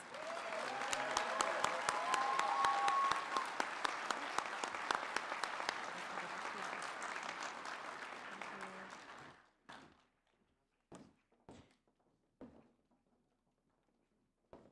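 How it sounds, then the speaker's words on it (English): An audience at the EPLA school graduation ceremony applauds loudly and steadily for about nine seconds, then the clapping thins out to a few scattered, isolated claps in a quieter hall. "Let's give these students another round of applause."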